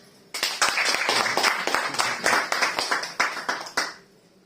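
Audience applause fills the room after a sudden start, a steady burst of many hands clapping with sharp accents, fading out at the end.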